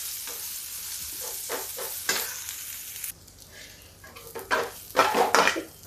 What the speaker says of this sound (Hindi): प्याज मेरा थोड़ा थोड़ा भून गया है